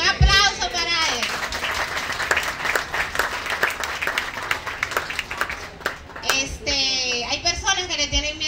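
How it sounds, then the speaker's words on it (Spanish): Lively clapping from dinner guests at a banquet honoring an activist, dense and continuous with sharp individual claps, mixed with voices and a brief musical swell near the end. "Un aplauso para él."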